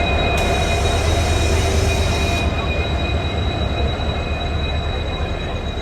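The Howrah Chennai Mail train rolls into platform 22 with a loud, rumbling rail roar and a bright, sustained wheel squeal on top, plus a brief hissing burst near the start.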